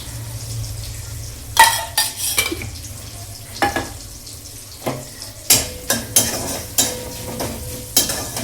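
Hot green chilies frying in ghee in a pan, a soft sizzle under repeated loud scrapes and clanks of a stirring spoon at irregular intervals, close and with no speech.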